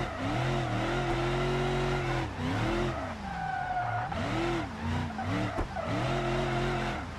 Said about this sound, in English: And I can kind of drift a little bit.